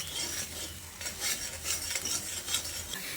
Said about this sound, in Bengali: আর এই সময়তে অনবরত নেড়ে চেড়ে মশলাটাকে কষিয়ে নিতে হবে।